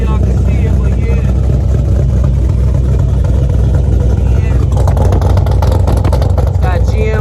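A 2010 Camaro SS V8 with GM performance mufflers and a big cam rumbles loudly and continuously at a cold start idle, a deep lopey exhaust drone with a person talking over it.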